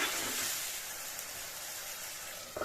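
Steady hissing and sizzling from a hot pan, a constant bubbling-fry texture with a small clatter near the end.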